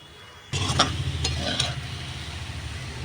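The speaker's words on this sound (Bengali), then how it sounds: "এটা আমার মিক্স করা হয়ে গেছে" Chicken chowmein with cauliflower being mixed in a pan: after a short quiet start, a sudden rise into continuous sizzling with a few soft scraping and clinking stirs on top.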